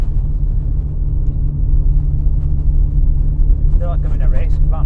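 A 432 BHP Saab-powered Astra van's engine rumbles steadily under the driver's throttle, a dense low drone throughout with speech over it near the end.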